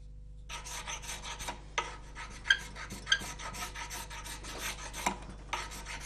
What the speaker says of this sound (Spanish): Alternando la cuchilla y la lija, Ramón le va dando la forma cóncava